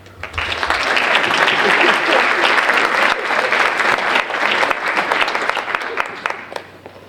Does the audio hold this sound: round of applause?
yes